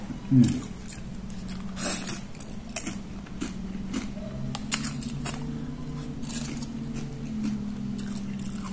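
Leftover tortilla crunched between the teeth, with a sharp bite near the start and a few softer crunches after it, heard close up over a steady low hum.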